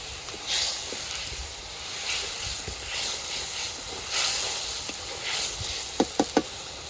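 Garlic with ginger-cumin paste frying in hot oil in a village kitchen: a steady close sizzle and hiss that swells in waves, with three sharp utensil taps near the end.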